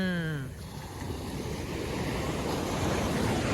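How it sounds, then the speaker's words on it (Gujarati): Sea waves washing in at Madhavpur beach in Gujarat, a steady loud rush of surf with wind buffeting the microphone, preceded by a brief tonal sound at the very start. "અહીંયા આ જે વેળું આવે છે ને ભાઈ, મોજા જે આવે છે ને, ગજબ દેખાય ભાઈ"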